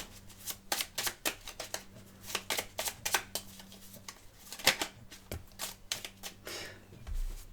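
Tarot cards shuffled by hand in a quiet room, a run of soft riffling and slapping bursts in an irregular rhythm, close and fairly faint.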